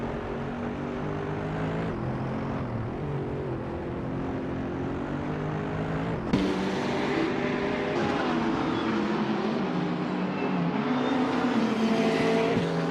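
Racing video game engines from GTE cars including the BMW M6 and Toyota FT1, a steady loud drone with shifting pitch that surges sharply around the midpoint, continuous with no talk.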